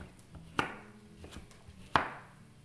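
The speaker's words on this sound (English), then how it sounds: "And then we'll cut these up." Knife chopping fresh unpeeled carrots on a cutting board for squash soup: two sharp, close chops with quiet kitchen background between them, no talking.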